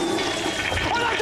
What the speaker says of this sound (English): his plans literally got flushed down the toilet